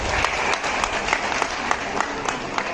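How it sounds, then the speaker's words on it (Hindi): Brisk audience applause for participants at a social welfare association's farewell event, a steady bed of clapping with distinct louder claps recurring at a quick pulse throughout. "एक बार जोरदार तालियां हमारे प्रतिभागियों के लिए।"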